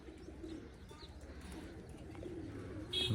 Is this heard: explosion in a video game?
no